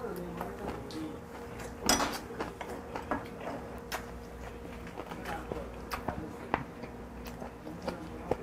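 Skate (hongeo) is chewed during a Korean meal, with close, soft, irregular bites and wet mastication clicks repeating throughout, and a voice murmuring faintly underneath.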